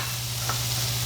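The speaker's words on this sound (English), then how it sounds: "Now I'm going to add the turkey after this veg is all softened up a bit" Turkey hitting a pan of softened vegetables and sizzling in a steady, close hiss, with one brief clink of a utensil partway through.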